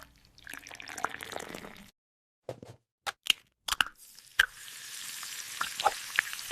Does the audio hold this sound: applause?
no